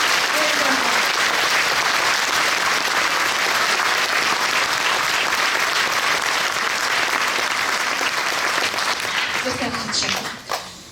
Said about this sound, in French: Je pense que nous pouvons les applaudir.